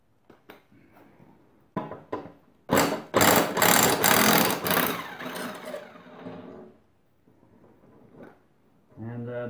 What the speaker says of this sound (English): I just got my electric impact 9/16 socket.